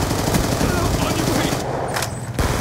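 Gunfire in the video game Black Ops 2, a loud, continuous burst of rapid automatic shots that breaks off briefly near the end and then resumes, dense and close.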